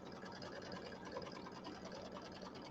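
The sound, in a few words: embroidery machine stitching around quilt batting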